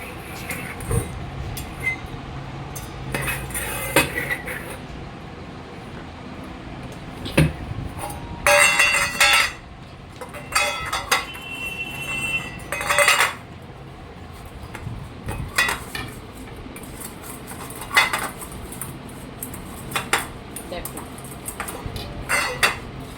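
Chini the dog plays with her water bowl, producing irregular clattering knocks and scrapes of the bowl on the floor, close and loud in bursts with quieter gaps between.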